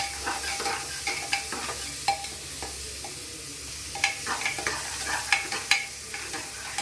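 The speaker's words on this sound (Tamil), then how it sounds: "நல்லா வதங்கணும்." Two finely chopped onions sauté in a pan, a steady, close sizzle overlaid with repeated scraping and clinking as they are stirred, with no talking.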